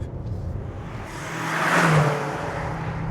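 A BMW M5 engine runs at full throttle in third gear, a roaring rise that swells to a loud peak just past the middle and then eases off, like a fast pass close by.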